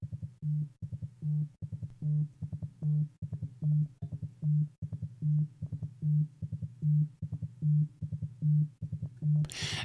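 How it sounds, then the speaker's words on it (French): The default iOS iPhone ringtone plays with synchronized vibration, a steady repeating pattern of low buzzing pulses locked to the ringtone's beat, close and even across about ten seconds, alone without speech. "quand on entend la sonnerie et qu'on sent la vibration synchronisée avec la sonnerie"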